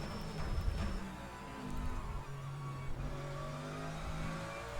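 Race car engines in Le Mans Ultimate as a McLaren overtakes on a racing circuit, a steady mid-pitched engine drone with rising and falling revving tones, close and continuous with no talk.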